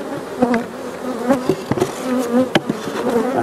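Honey bees buzz steadily around a crowded hive with a full honey super and plenty of brood, a dense droning hum with individual bees flying close past the microphone in brief louder swells.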